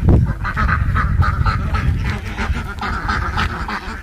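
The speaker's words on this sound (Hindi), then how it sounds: "उस साइड जो है पूरा सब बतख है, सब एक झुंड में चलता है।" A flock of farm ducks in a village quacks loudly and continuously, many overlapping calls close by, with a low rumbling background beneath them.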